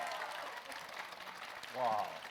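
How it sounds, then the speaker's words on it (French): The audience at a live stage show with a mentalist breaks into steady applause, a broad, even wash of clapping, with a brief voice rising over it near the end. "je vous demanderai un tonnerre d'applaudissements s'il vous plaît"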